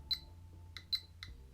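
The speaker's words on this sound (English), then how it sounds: "Oh, it means that it's beeping now." An electronic device beeps a warning that a reading is high. It gives four short, bright beeps in an uneven pattern, quiet against a low steady hum.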